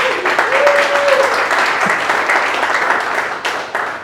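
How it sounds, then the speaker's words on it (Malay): Loud, thunderous applause from a crowd at an empowerment talk, sustained and dense with a faint tonal whistle early on and a brief thump midway. "Bagi tepukan gemuruh."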